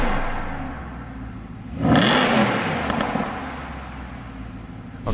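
A Mercedes-Benz SLS AMG engine fires up with a brief rising rev, then settles into a steady rumbling idle, loud and close, with no voices.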